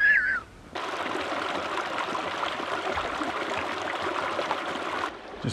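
A mountain stream flows steadily in Idaho backcountry while water is collected, a continuous broadband rushing trickle, moderately close, that starts after a brief quiet moment and cuts off just before the end.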